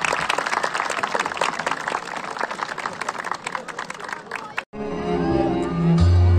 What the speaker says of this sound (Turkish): Ve çiftimize güzel bir alkış alıyoruz bütün misafirlerimizden.